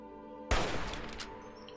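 Gunfire aimed at a Super Mutant Gargantuan in Fallout 3: a sudden loud blast after a moment of quiet hum, followed by a decaying crackle and a few smaller impacts.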